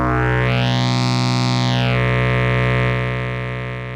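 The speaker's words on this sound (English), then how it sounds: "The Wavefolder is a really interesting effect to use with monophonic synths." Korg MS-10 triangle wave run through a Sparks analog wavefolder pedal set to fold: one sustained, buzzy note rich in overtones, with a sweeping swell in brightness during the first two seconds before it settles and fades slightly.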